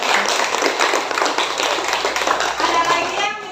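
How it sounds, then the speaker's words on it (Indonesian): A classroom of students claps together after a lesson, with dense, steady applause lasting several seconds before it fades, and voices faintly mixed in. "Ya, tepuk tangan untuk."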